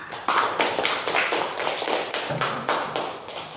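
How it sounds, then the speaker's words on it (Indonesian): A children's class claps together in a classroom, a quick rhythmic run of bright hand slaps at a steady beat, moderately loud and close. "Kita kasih aplaus sama-sama."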